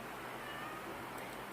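A Siamese cat indoors gives a faint meow against a quiet room background, brief and soft, with no clear talk.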